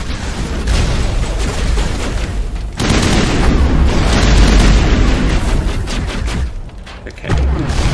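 A bomb explodes in the video game Mass Effect: loud, sustained booming blasts with heavy low rumble and crackling debris, swelling in a second wave midway and running for several seconds without a break.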